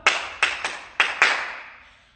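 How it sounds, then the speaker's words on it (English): Hands clapping a tap dance rhythm in a dance class, five crisp, close claps in a syncopated pattern with short echoing decays, heard alone. "clap it with me, here we go,"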